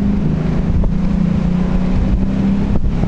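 A 1986 Mercedes-Benz 560SL accelerates on a road, its engine a loud, steady roar mixed with heavy wind rush against the microphone, no talking.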